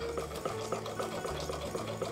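A hand-cranked USHA straight sewing machine runs with a rapid, even mechanical clatter of needle strokes, close and continuous throughout.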